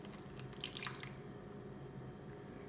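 Water being squeezed by hand out of salted kimchi ingredients gives faint wet squishing and dripping sounds, close and quiet with no talk.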